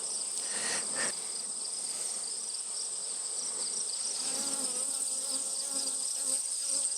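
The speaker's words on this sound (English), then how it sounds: "maybe this bee that's harassing me come from there" A honey bee buzzes in a continuous high drone around a beekeeper at the hive, close and steady throughout, mixed with an insect-like whine and no talking.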